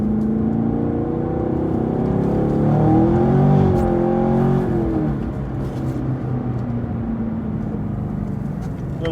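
A car accelerating out of a corner on a wet track at Area 27, its engine climbing in pitch through a gear then holding a loud, steady drone, heard from inside the car.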